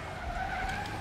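Truck tires screech in a long, loud skid during a Spider-Man video game, a steady squeal over engine rumble lasting about a second.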